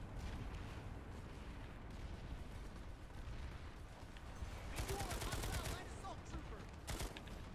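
Planetside 2 gunfire on PS4 as a dense, continuous rattle of weapon fire during a large battle, with heavier bursts of shooting around the later part and steady combat noise throughout.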